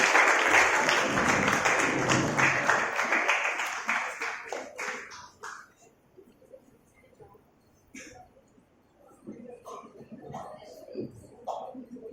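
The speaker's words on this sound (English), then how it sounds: "A loud round of applause for him." Clapping from an audience fills the opening seconds, then thins out and fades, leaving scattered coughs and murmuring.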